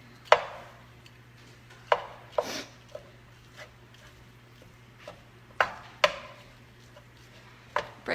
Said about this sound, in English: we're chopping up a medium onion right now